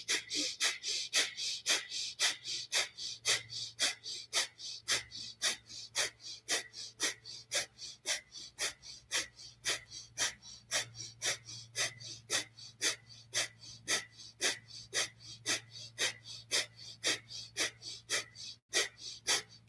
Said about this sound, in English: Everyone else is doing breath of fire for 20 more seconds.